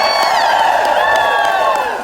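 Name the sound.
applause and cheering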